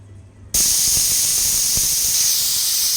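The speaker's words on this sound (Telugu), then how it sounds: "ఇలా ఎక్కువ మంట పైన అయితేనా 6 విజిల్ అయితే రానిద్దాము" A pressure cooker with mutton cooking over high flame suddenly bursts into a loud, continuous steam hiss that holds steady, close and alone.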